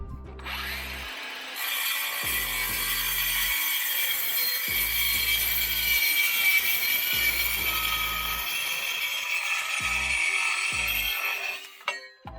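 A steel tube being cut with a hand saw, a rhythmic series of rasping back-and-forth strokes, close and fairly loud, with brief pauses between the strokes.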